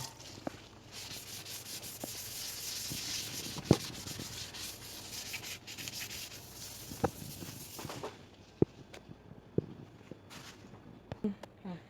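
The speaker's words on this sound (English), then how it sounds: "you can either use the sponge side, and if you have tough to clean spots, you can scrub it" A sponge scrubbing a kitchen counter during a budget kitchen makeover, giving a steady close rubbing hiss with occasional sharp knocks and taps, quieter toward the end.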